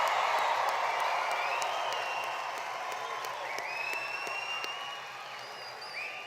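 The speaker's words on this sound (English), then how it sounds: "Let's give our graduates a round of applause." Audience applause with cheers and whoops at a 2022 high school graduation ceremony, loud and sustained from a large crowd, with scattered shouts rising above a steady wash of clapping.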